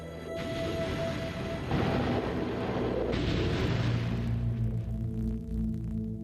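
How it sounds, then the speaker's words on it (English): Deep, rumbling underwater blasts from air cannons detonated in the ocean boom one after another, heavy low thuds rolling and swelling, loud and dense throughout. "Powerful air cannons are fed into the ocean and detonated."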